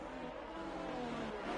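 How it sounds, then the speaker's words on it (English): A Renault-engined race car revs hard in a Codemasters racing game on the Circuit of the Americas, a continuous loud engine drone that fills the whole short stretch without pause. "revving the daylights out of that Renault engine"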